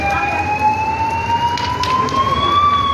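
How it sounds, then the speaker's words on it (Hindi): A fire engine siren wails with a steady, slowly rising tone as the truck arrives at a burning pickup in the old grain market of Gangapur City, loud over constant street and engine noise. "फायर ब्रिगेड की गाड़ी भी अब पहुंच रही है गंगापुर सिटी के पुरानी अनाज मंडी में।"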